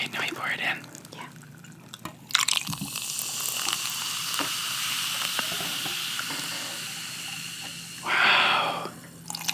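A drink is poured into a glass during a celebratory toast, a steady close hiss of liquid running for several seconds, followed by a brief louder splash near the end.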